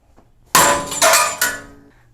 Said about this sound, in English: It's just hit it with a hammer.